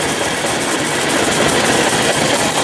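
A concrete mixer driven by a tractor engine runs steady and loud nearby, a dense, even roar with a low diesel throb and no pauses.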